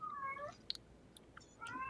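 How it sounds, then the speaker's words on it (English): A house cat meows faintly and somewhat distantly, with a drawn-out call at the start and another at the end, separated by small clicks and quiet room noise. "Oh, I hear Jeff's cat."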